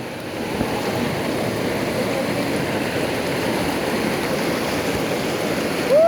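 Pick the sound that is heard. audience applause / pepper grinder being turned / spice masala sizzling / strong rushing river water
strong rushing river water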